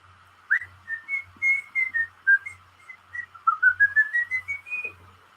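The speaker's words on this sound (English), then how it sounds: "best thing you can do on a stream is whistle." A person whistles a melodic tune during a livestream, clear close notes in a series of short phrases with gliding pitch, heard alone without talk.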